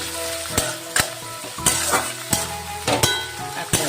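Steady sizzle of garlic paste frying in hot oil, broken by sharp scraping knocks of a spoon stirring the pan.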